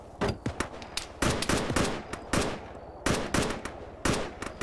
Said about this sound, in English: There's something shooting at me.